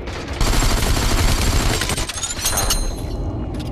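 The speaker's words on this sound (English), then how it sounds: "Get the guns and shoot him." Rapid gunfire in an online squad shooter video game, a dense, loud burst of shots that runs almost the whole time with a few sharper cracks and a metallic ring near the end.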